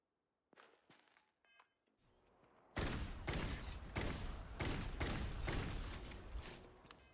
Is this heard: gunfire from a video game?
yes